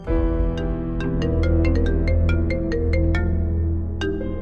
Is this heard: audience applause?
no